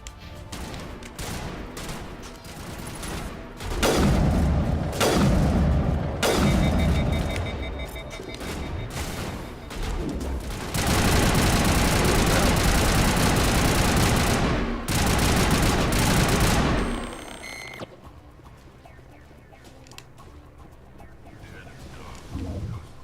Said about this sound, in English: I'm gonna switch and get a fully automatic rifle